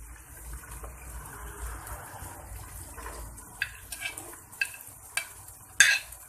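Chicken and vegetables being stirred in a pan: soft frying hiss under intermittent scraping and clinking of a spoon, growing sharper toward the end, close and fairly quiet, with no voices.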